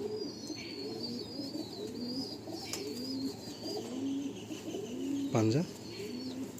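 Pigeons coo repeatedly in a loft in a steady, rolling pattern, with chirps and a higher bird call above, while someone speaks briefly near the end.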